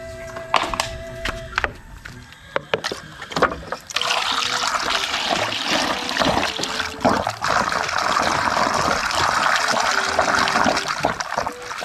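Water pours into a homemade non-electric pump with a gushing, bubbling rush after a few scattered knocks, continuing steadily and fairly loud until the end.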